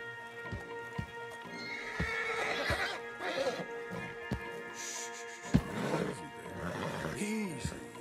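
A white Arabian horse in Red Dead Redemption 2 snorts and gives sharp whinnies, with hoof clops and thumps scattered throughout at moderate distance, mixed with other game sounds.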